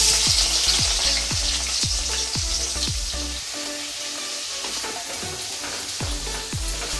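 Steady crackling sizzle of onions frying in hot oil, with a few stirring scrapes and clatters, loud and close with no talking.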